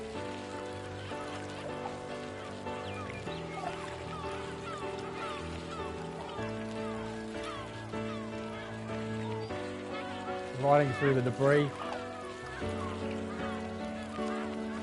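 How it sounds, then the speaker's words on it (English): Birds and seagulls squawk in the PS5 game Purpose 1951, a steady chorus of calls over a droning ambient music bed, with a louder burst of honking cries near the end and a short spoken line. "Crap load of bird noises, seagulls and stuff going nuts."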